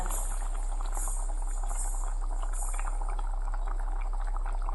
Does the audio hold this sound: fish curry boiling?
yes